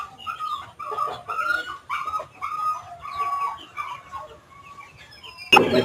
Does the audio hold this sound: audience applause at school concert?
no